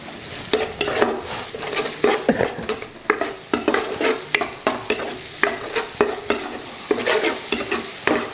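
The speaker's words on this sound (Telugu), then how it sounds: "వేసి ఉల్లిపాయలు దూరగా వేగేంత వరకు వేయించుకుందామండి" Onions frying in a pan with turmeric and salt, a steady close sizzle broken by frequent rhythmic scrapes and clinks of a spatula stirring against the metal throughout.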